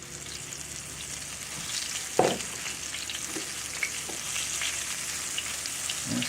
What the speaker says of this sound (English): I'm frying chicken livers.